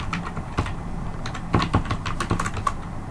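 A Java program being typed on a computer keyboard: close, irregular bursts of clicking keystrokes with short pauses between them, no voices.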